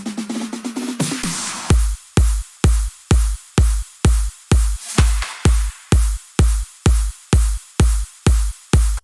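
A layered electronic drum loop built in FL Studio for a dance drop: a short swelling build-up gives way to a steady, evenly spaced pattern of punchy kick-heavy hits, loud and dry, with no voices.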